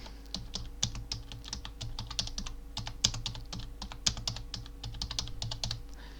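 Quick, steady keystrokes on a computer keyboard clatter close by for several seconds over a low electrical hum, with no speech.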